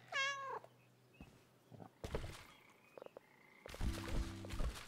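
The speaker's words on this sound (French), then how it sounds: "Regarde, il y a même un petit chat." A small cat meows in a farming and gardening video game, a short rising and falling cry near the start, followed by other game sound effects, croak-like tones and music-like chimes, with no talking.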